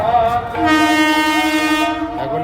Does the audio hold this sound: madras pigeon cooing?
no